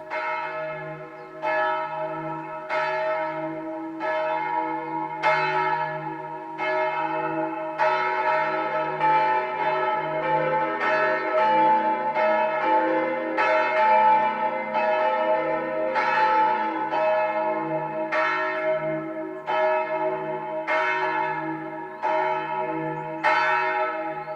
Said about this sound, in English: you're going to hear more than just the church bells